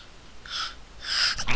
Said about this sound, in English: Didn't mean to sneeze in your ear.